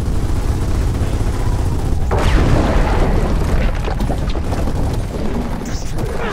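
A frag grenade explodes in the Gears of War 4 campaign, a booming blast amid constant dense combat noise with scattered gunfire and crashing debris, no talk.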